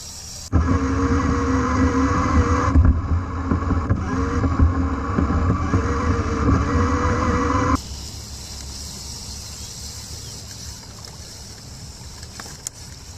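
A small electric motor on a prototype underwater camera boat whines and hums steadily on water for several seconds, then cuts out abruptly, leaving faint wind and water ambience.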